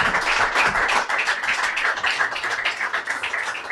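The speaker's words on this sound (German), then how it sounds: "Applaus, Applaus!" Crowd applause from a live audience, dense continuous clapping at steady loudness throughout with no pauses, fairly close and filling the space.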